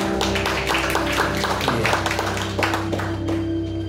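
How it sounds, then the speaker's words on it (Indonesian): A church congregation claps in an uneven, sustained burst over steady keyboard tones, with a brief spoken word near the end. "Tepuk tangan dong buat Tuhan."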